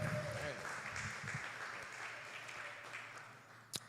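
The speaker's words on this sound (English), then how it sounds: "Thank you, yeah, clap it up." Applause from an audience, a dense patter of clapping that gradually fades, ending with a single sharp knock.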